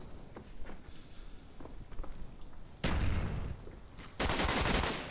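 Gunfire in Call of Duty: Black Ops multiplayer, with scattered small shots and impacts, then two loud, sustained bursts of rapid automatic fire close by, separated by a brief pause.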